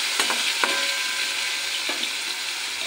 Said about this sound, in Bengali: পরিমাণ মতন হলুদ, পরিমাণ মতন নুন, সব কিছু মিশিয়ে নিই।